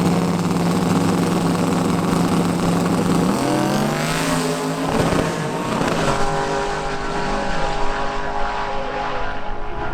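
A drag car with a twin-turbo Demon engine runs close and loud, a dense droning idle that rises in pitch with revving partway through, then settles.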